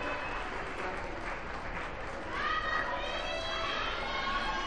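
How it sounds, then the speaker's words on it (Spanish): A crowd at a school workshop closing event applauds the choir and performers with continuous, even clapping, while voices murmur and chatter faintly underneath. "Un aplauso para todos ellos"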